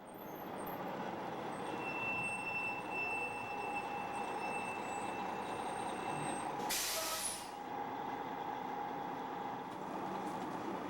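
A bus carrying recruits at the Parris Island Marine Corps depot idles with a continuous rumbling engine, and a loud sharp hiss of its air brakes bursts out midway, with no talking.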